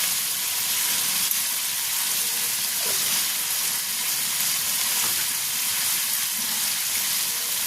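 Turmeric powder and a few whole peppercorns sizzle in a frying pan, a steady close hiss of hot oil that continues evenly throughout.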